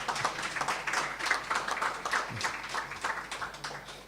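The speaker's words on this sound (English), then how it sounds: "Clap hard, man." An audience at a track and field meet launch claps hard in a quick, steady rhythm, the sound close and continuous throughout.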